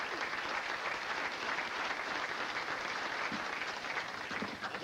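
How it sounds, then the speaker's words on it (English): Sustained audience applause fills a hall at an athletic hall of fame ceremony, a dense, steady wash of many hands clapping at even loudness throughout with no voices standing out. "Let's give another round of applause for Len Sparks from Step in the Boat"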